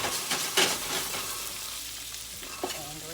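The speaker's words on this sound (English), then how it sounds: "And we're just going to let them saute for a little while." Vegetables seasoned with onion powder, garlic powder and roasted vegetable seasoning sauté in a pan with a steady close sizzle, broken by a few sharp stirring clinks and scrapes.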